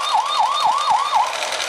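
A Paw Patrol Chase toy vehicle plays an electronic siren effect, a rapid repeating wailing whoop heard close and clear with no talk.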